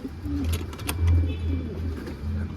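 Pigeons coo with low, soft, repeated calls close by, accompanied by some light rustling and faint higher chirps.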